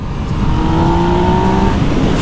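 A Yamaha MT-09 motorcycle in sport mode pulls hard in third gear, its engine holding a loud, steady droning tone that rises slightly in pitch over about two seconds, close up with no talking.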